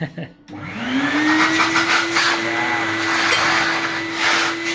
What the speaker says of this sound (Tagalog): Hindi mo pinandar yung vacuum eh.